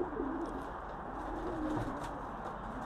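Homing pigeons in a loft coo softly in low, rolling calls, faint and fairly close, over a steady background hum.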